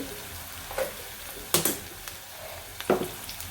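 Ginger garlic paste and chana dal fry in a pan with soft, faint sizzling, broken by a few sharp stirring or scraping bursts of spoon against the pan.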